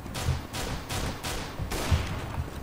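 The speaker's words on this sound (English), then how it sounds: "Who's shooting at me?" Bursts of gunfire in a hostage-rescue shooter match between terrorists and counter-terrorists, sharp repeated shots in a steady rhythm across the whole clip, some nearer and heavier than others, with no talk.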